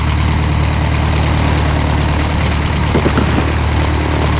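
Air-cooled VW engine on a Sonex aircraft runs loud and steady outdoors, a constant rough drone with a brief cluster of louder pulses near the end, no talking.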